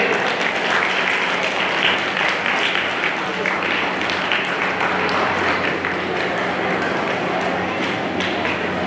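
Audience applause for the judges at a diocese Sunday School Day event, dense sustained clapping from a crowd at steady loudness throughout, with faint voices mixed in beneath it.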